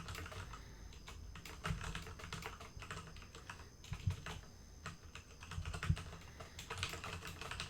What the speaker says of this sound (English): I'm just typing this up.